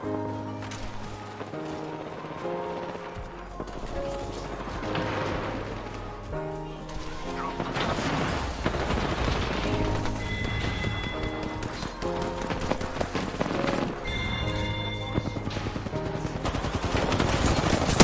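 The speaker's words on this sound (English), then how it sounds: "Everybody's shooting at us, apparently." Gunfire in the shooter game Apex Legends during a Gun Run mode match in Skulltown: rapid bursts and scattered shots crackle over game music and effects, fairly loud and continuous throughout.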